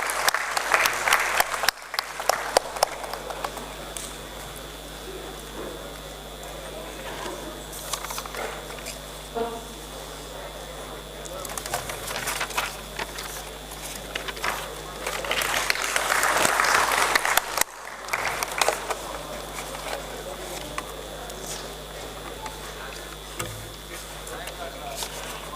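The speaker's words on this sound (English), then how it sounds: "Please give a round of applause to him." An audience at a startup innovation event gives a speaker a round of applause, steady mid-distance clapping that swells twice and runs throughout with a faint hum beneath.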